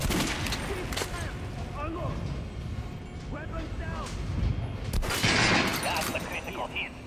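Shots fired at an armored dummy on a shooting range in the video game Metro Last Light, heard as bursts of gunfire among game sounds, with a voice talking through much of it.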